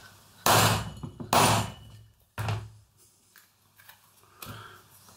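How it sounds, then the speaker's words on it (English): Hammer blows on a metal hole punch set on leather for a steampunk mask, three loud sharp strikes spaced about a second apart, then quieter taps and a light knock, close and without talk. "and we will use a hammer."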